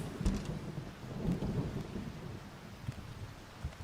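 Thunder rumbles beneath steady rain during a lightning strike in a solarpunk video game, a low diffuse roll with soft patter, fairly quiet and without voices.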